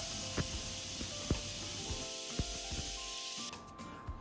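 A pressure cooker holding fenugreek is opened after cooking, letting out a loud, continuous hiss of steam with faint rattling clicks, before the hiss cuts off abruptly near the end, leaving quieter clatter.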